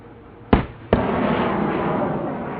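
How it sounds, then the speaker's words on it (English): Star shells fired by the Pakistan army at a military demonstration, two sharp booming launches about half a second apart, each followed by a sustained loud rushing roar. "star shells fired will shortly become visible in front"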